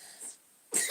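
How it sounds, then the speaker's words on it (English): A child coughs twice in a quiet room, a short faint cough followed by a louder, harsher burst after a brief silence, with no talking. "the kid here is really coughing"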